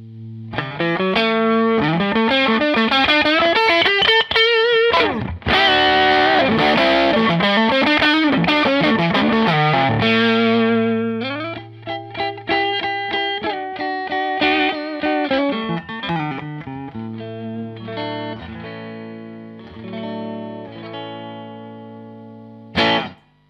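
Electric guitar with low output pickups played through a boost pedal, loud and driven with a bright, slightly distorted tone; chords and single-note lines ring out continuously, then sparser picked notes toward the end, with no talking.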